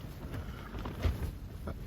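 Wind buffets the microphone inside a Robens Starlight 2 EXP tent in low, steady rumbling gusts, with faint flapping behind it and no voices.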